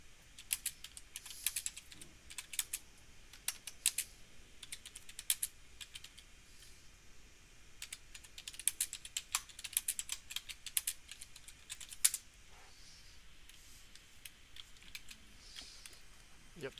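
Computer keyboard typing during a PC gaming session, sharp irregular clicks in fast clustered bursts close to the mic, with brief pauses between runs of keystrokes over a quiet background.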